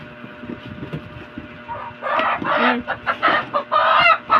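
Hens cluck loudly and repeatedly up close, a burst of agitated clucking calls after a quieter stretch of background noise.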